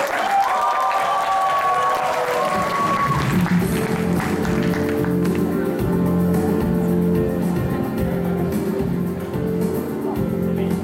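An audience at an international expo event applauds as a director is welcomed on stage, a sustained wash of clapping that settles under music and a voice.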